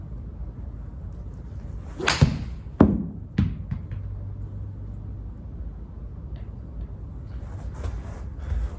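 Golf wedge shots struck outdoors aiming for a controlled flight, two or three sharp crisp strikes in quick succession over steady outdoor background noise, moderately close.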